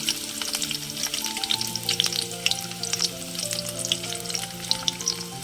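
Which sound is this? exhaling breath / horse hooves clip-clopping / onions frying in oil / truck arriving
onions frying in oil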